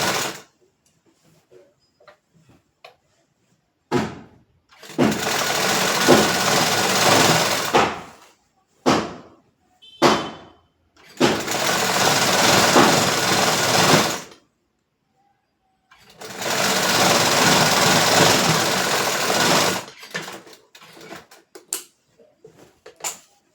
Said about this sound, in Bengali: নাইটির যে সাইডের সেলাইটা হবে এটাও আমি 1/2 ইঞ্চিতে সেলাইটা করব।